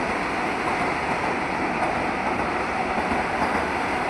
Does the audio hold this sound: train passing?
yes